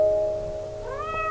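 A cat meows in the video game Thirteen and a Half Cats, with a short rising cry near the end over a steady hum of game music.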